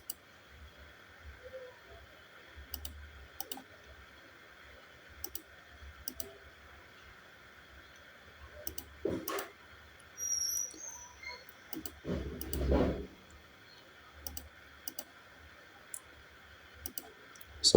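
Computer keyboard and mouse clicks while drawing in AutoCAD: sparse, quiet single taps spread at irregular intervals over a faint steady hum, with a few soft rustling bursts in between.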